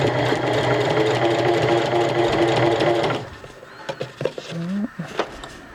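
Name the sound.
sewing machine top stitching a cloth diaper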